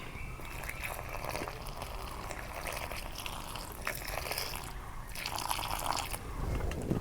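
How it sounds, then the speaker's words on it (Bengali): Hot water pours steadily into flour for roti dough in a village kitchen, a continuous close splashing hiss with no talking. "গরম পানি দিয়ে দেই।"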